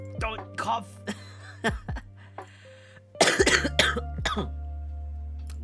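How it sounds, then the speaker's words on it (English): A woman coughs repeatedly indoors, short harsh bursts scattered across the moment with some throat clearing, over a steady low electrical hum. "I'm not gonna die because of a cough"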